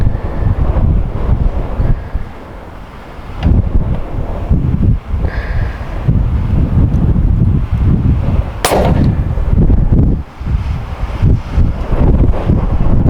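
A rifle fired at an outdoor range during zeroing, with loud sharp reports over heavy wind noise buffeting the microphone, one especially crisp shot standing out near the middle.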